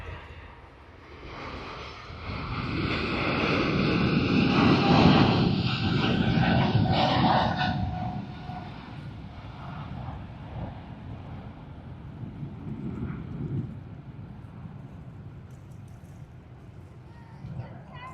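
United Airlines Boeing 777-200ER departing Sydney Airport, a distant jet roar that swells to a peak and then slowly fades under wind noise.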